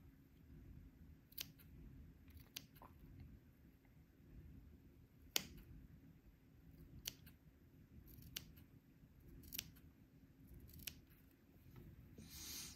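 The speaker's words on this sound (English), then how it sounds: "cut a little notch without cutting your seam" Scissors snip notches into a fabric seam allowance, giving sharp isolated clicks spaced a second or so apart over a very quiet room background.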